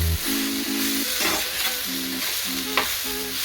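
Brinjal sabji seasoned with salt, turmeric and jaggery sizzles steadily in a pan while a spoon stirs it in repeated scraping strokes, close and continuous with no voices.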